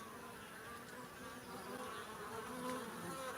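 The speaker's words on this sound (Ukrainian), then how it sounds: "Це це рий, невеличкий рій" Steady, dense buzzing of a small honeybee swarm, a continuous droning hum that stays even throughout with no voices.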